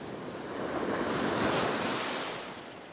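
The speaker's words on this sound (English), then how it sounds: "the waves have picked up quite a bit from this morning" A single ocean wave breaks on a beach during surf fishing, swelling to a broad rushing crash that peaks midway and then recedes, with wind noise on the microphone and no voices.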